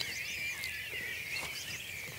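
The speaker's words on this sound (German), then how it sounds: "die Vögelchen singen" Small birds sing at dawn beside a river, a faint chorus of high chirps and trills layered over a quiet, steady outdoor background.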